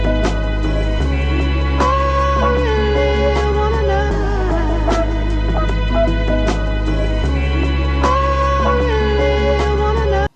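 Simple looping bass pattern of just two notes alternating over and over, a deep sustained tone switching pitch every couple of seconds under a busy, bright sampled layer, loud and continuous.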